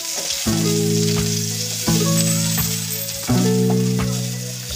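Garlic frying in hot oil in a kawali pan, with a steady close hiss of sizzling and three ringing clanks of a utensil against the metal spaced a second or so apart.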